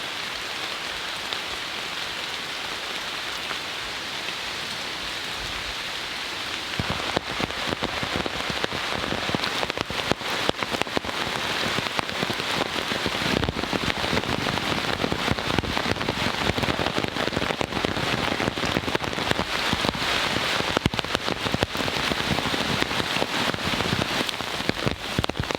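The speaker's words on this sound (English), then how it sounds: "So my friends, that was a good downpour." A heavy rain downpour drums steadily on a Wildlands UL2 tent, a dense, loud hiss of drops hitting the fabric that swells sharply after a quieter start and then holds constant, with no voices.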